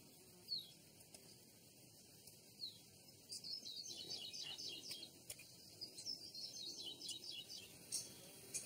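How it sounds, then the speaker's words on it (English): Pre-recorded Maui honeycreeper calls played from speakers beside mist nets in a Hawaiian forest, bright chirps and short twittering phrases repeating in clusters over a faint, quiet background. "By alternating pre-recorded honey creeper calls from speakers positioned to either side of the nets"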